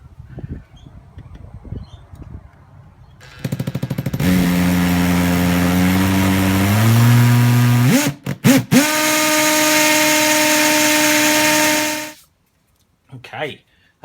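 Power drill running in long continuous bursts, whining and changing pitch as it bores, stopping briefly and restarting before cutting off near the end, with quieter handling sounds around it.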